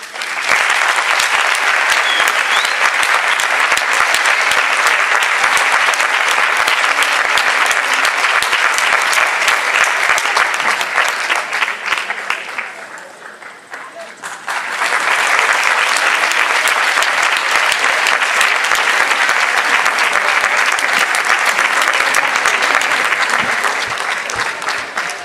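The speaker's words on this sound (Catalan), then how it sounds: "Despedim amb un fort aplaudiment a la mantenidora de la Fallera Major Infantil" Loud, sustained audience applause for the presenter at a Valencian Falles exaltation ceremony honouring the child Fallera Major, dense clapping filling the hall with a brief dip midway before surging back, no speech over it.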